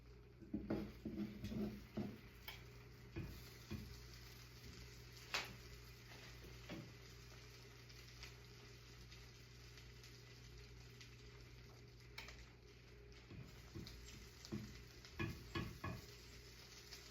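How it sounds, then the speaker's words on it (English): Butter melting and sizzling in a frying pan while making carnivore pancakes, a soft steady crackle with scattered louder pops and small clinks, close and fairly quiet, with no talking. "I think the butter's kind of melting"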